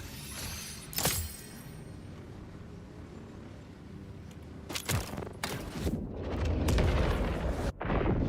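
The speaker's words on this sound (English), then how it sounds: "This is the bread launcher underbarrel." A bread launcher underbarrel weapon in Borderlands 4 fires a few loud, booming blasts with rumbling impacts and explosions, ending in a dense rising roar, with no voices.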